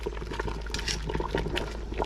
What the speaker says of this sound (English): They're boiling down